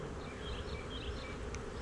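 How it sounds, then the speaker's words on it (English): Honey bees buzz around a beekeeper working at the hive, a close, continuous droning hum with individual bees zipping past, sometimes very near. "along with the bee that got back in my veil"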